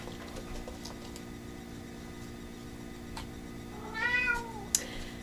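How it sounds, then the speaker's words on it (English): A house cat meows once near a Loot Crate box, a short, clear call rising over a quiet room hum and faint mechanical ticking, followed by a small sharp click. "My cat's trying to go into the loot crate."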